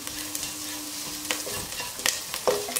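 Sliced onions and curry leaves sauté in a pan for an egg and vegetable stew, giving off a steady bright sizzle broken by a few scraping stirs, close up and with no voices.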